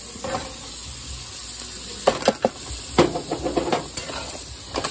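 Carrots and cauliflower stir-frying in hot oil give a steady close sizzle, broken by several louder crackling bursts and scraping stirs partway through, with no talking.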